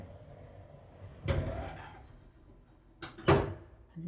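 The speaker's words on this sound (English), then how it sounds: "So I'm going to press it once. The doors will shut." Automatic doors on a small on-demand lift in the Swiss Alps slide shut, with two distinct thudding closes a couple of seconds apart and a quiet hum between them.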